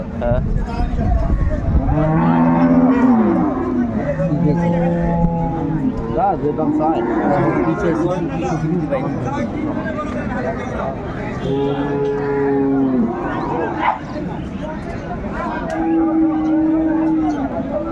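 Cows moo repeatedly, with long tonal calls standing out over the steady hubbub of a crowded cattle market at Ambari Haat in Dinajpur, where people talk nearby throughout.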